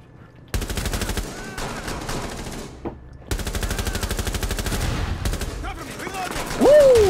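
Rapid automatic gunfire from a shooter video game crackles in long, dense bursts separated by a short pause, loud and close, with an excited voice and a rising whoosh near the end.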